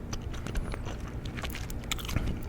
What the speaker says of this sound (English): I'm trying to incorporate this the gum chewing while being like kind of professional about the review